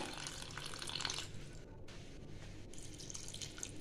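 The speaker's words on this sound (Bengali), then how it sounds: "দিয়ে দেবো জল। আমি একটু পাতলাই করব জলটা।" Water poured steadily into a pot of mutton curry with potatoes and papaya, a soft continuous splashing that stays faint and even throughout, with brief quieter dips; no speech.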